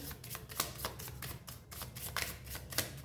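Tarot cards being shuffled by hand in a steady run of crisp riffling and sliding bursts, close and fairly quiet, with no talking.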